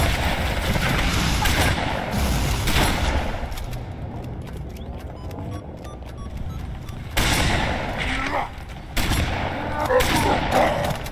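Dense, continuous gunfire and heavy weapon blasts fill the Halo 3 battle, loud and close throughout, easing briefly midway before surging again, with voices speaking over the din.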